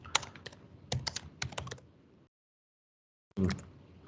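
Quick bursts of typing on a computer keyboard, clustered keystrokes clicking close by, then a pause of silence before another short flurry of keys.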